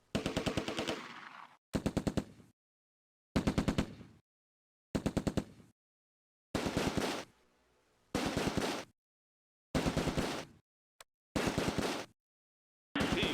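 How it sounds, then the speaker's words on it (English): A .30 caliber machine gun fires on German troops in the Close Combat A Bridge Too Far war game, loud near bursts of rapid automatic fire repeating about eight times, separated by brief silences. "The 30 caliber has moved into the tree line and targets German troops in the open."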